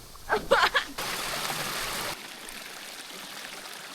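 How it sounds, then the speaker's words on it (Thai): A waterfall at Phu Soi Dao in the rainy season, Phitsanulok and Uttaradit, spills down into a stream as a steady rushing hiss that suddenly drops to a softer, distant flow. "นี่ครับเป็นน้ำตกไหลเป็นทางน้ำลงไปด้านล่าง"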